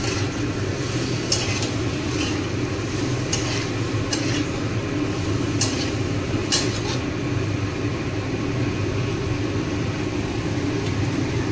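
Chicken giblets being stirred in a pan with salt and turmeric: a steady sizzle with several sharp scraping strokes of a spoon against the pan, close by, over a constant low background hum and no talk.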